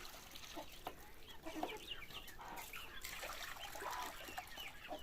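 Chickens cluck and chirp in short bursts close by, with faint scratching and rustling in a quiet barn.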